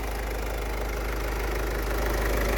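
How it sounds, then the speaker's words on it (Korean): Diesel car engine idling roughly and shaking while intake cleaner is sprayed into the intake, a steady close drone with a rhythmic knocking pulse and no talk. "엔진이 약간 그 떨리면서 부릉"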